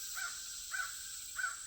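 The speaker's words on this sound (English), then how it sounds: "You can hear the birds." Crows caw outdoors near a house with a westward view, three evenly spaced calls about half a second apart, faint and distant over a steady background hiss.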